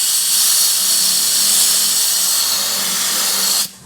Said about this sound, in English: And it'll spin that pad really fast, and then you can clean it out.